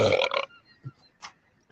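A person burps loudly once up close, followed by a few faint grunts and small throaty sounds.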